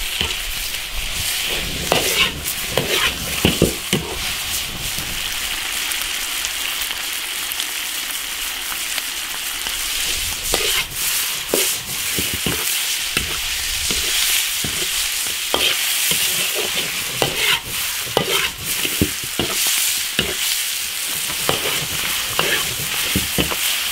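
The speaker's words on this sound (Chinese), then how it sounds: "鳝鱼爆炒1分钟，" Eel is stir-fried over high heat in a big iron wok with ginger, garlic, pickled chillies and chilli sauce, giving loud continuous sizzling broken by scraping stirs, with no talk.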